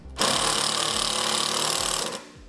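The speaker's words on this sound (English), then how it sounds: "Get one started, the other one started. And tighten them down fully." A power driver running self-tapping screws into a base plate while installing a towed-vehicle battery charge kit, one loud continuous whir close by that starts abruptly and stops after about two seconds.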